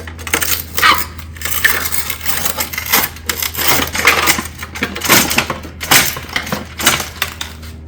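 A cutter slices a metal roof tile panel for a hip, a loud run of crunching, clanking metallic bites and rattles in uneven bursts, close up and without speech.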